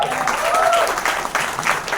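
Applause from a live audience at a Marathi film trailer launch event, a steady dense clatter of clapping sustained throughout, fairly loud and close with faint crowd murmur mixed in.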